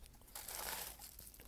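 Packaging being cut open with scissors, a short close burst of crinkling plastic and rustle lasting about a second, faint and alone.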